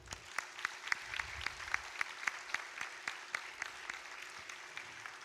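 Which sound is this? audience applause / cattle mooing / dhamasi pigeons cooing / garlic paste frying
audience applause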